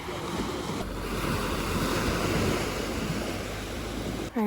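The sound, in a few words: waves on the beach of Sainte-Anne, Brittany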